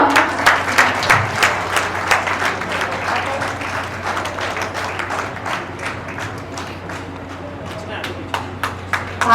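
Clapping at a Holi flower festival held by the Kshatrani Foundation, a run of sharp, separate claps in an uneven rhythm over a steady low hum, loud and close, with a few hand claps standing out.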